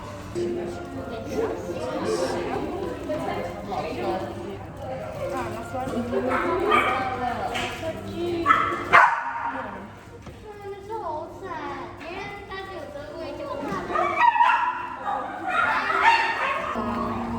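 Several dogs at a dog cafe bark and yip in bursts, with occasional whimpers, close and fairly loud over steady indoor chatter from people talking nearby.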